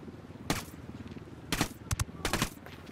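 Several sharp gunshots in the video game Ghost Recon in quick bursts, a single crack, then a tight double shot and another burst, over a low rumbling background.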